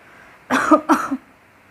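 A woman coughs twice in a short close pair, each burst rough and throaty, with silence before and after.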